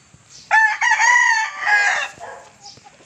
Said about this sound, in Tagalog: Narinig nyo mga idol yung tilaok niya.